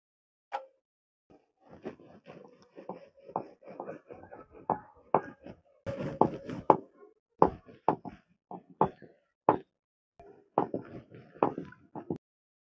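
Luchi dough is rolled out on a board, heard as a series of close, soft irregular knocks and thumps from the rolling pin against a quiet background.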